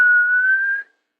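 A person whistles an imitation of a small hawk's flight call, one clear, steady, slightly rising whistle lasting under a second, loud and close, then cutting off to silence.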